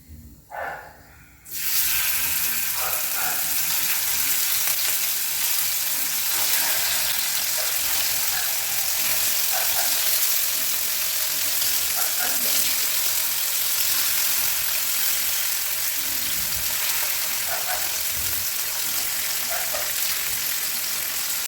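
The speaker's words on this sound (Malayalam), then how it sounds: "അതിൻ്റെ മീതെ കൂടി നമ്മുടെ കുഞ്ഞമത്തി അങ്ങനെ നിരത്തിയിട്ട് അങ്ങോട്ട് വറുത്തെടുക്കാൻ വേണ്ടിയിട്ട് പോവുകയാണ്" Small sardines fry in coconut oil over curry leaves in a pan, setting off a loud, dense, continuous hiss and sizzle after a brief quieter start. It stays steady throughout with no voices.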